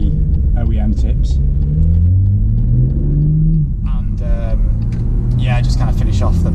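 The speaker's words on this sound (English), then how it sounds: "someone's just reverse parking" A car reverse parking somewhere near a modified BMW M2, heard as a steady low engine rumble with gentle revving that holds throughout, with people talking over it.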